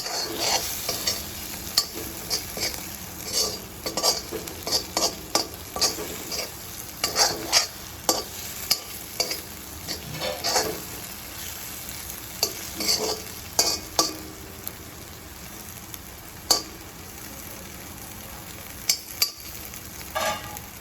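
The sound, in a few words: stirring coriander powder into frying brain fry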